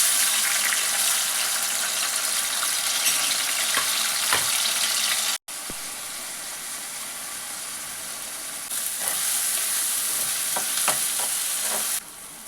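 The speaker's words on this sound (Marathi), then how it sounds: "आता तेल आपलं गरम झालेलं आहे आता पहिले आपण लसूण टाकून घेऊ टोमॅटो टाकायचा" Garlic and tomato fry in hot oil in a pan, giving a loud, steady sizzle that runs almost unbroken with a few soft stirring knocks and one brief cut-out midway.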